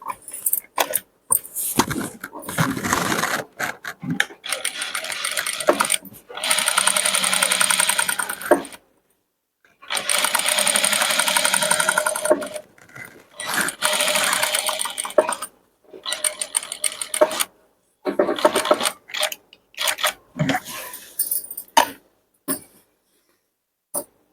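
A sewing machine stitches a chudidar top in repeated loud whirring runs of several seconds each, separated by brief pauses and small mechanical clicks.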